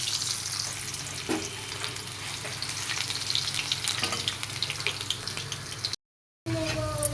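Potatoes fry in a pan, a soft steady sizzle with faint clinks and stirring noises close by, broken by one brief gap of silence near the end.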